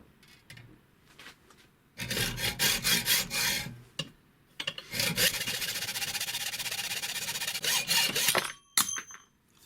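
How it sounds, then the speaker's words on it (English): An old Eclipse 20T hacksaw cuts a workpiece clamped in a vise, with a burst of short rhythmic strokes, a brief pause, then a long, steady stretch of close rasping sawing that ends abruptly. "grab a hacksaw, and we're going to be using my old Eclipse"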